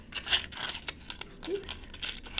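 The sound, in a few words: cutting material in half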